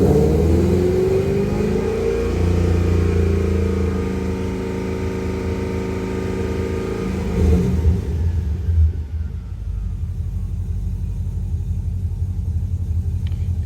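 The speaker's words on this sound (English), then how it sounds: "So rev the engine." A Pontiac GTO engine revs with the load off and the air conditioning shut down, a loud, sustained rumbling run that climbs in pitch early on, holds steady, then eases back toward idle near the end with no voices.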